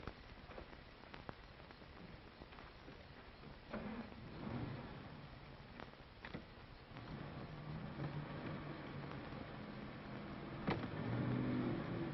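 A car drives along steadily, its engine a low rumbling drone under faint hiss and occasional knocks, swelling somewhat louder in the second half.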